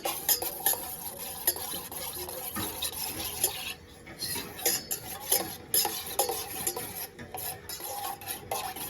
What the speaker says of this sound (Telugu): అది ఉండలు రాకుండా మంచిగా మిక్స్ చేయాలి